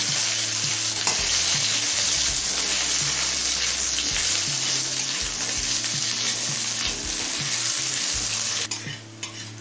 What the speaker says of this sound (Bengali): আলুটা মিডিয়াম ফ্লেমে মিনিট 5-6 ভেজে নিয়েছি